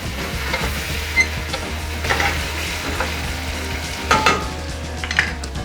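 Vegetables with a bouquet garni of thyme, rosemary and bay leaf are stirred in a frying pan, giving a steady close sizzle with scraping utensil strokes and a few louder clinks against the pan.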